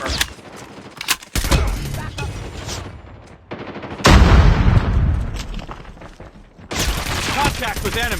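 Rapid bursts of game gunfire in Call of Duty Mobile, several loud volleys separated by short gaps, with a heavy blast near the middle and a voice speaking over parts of it.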